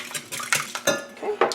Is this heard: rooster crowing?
no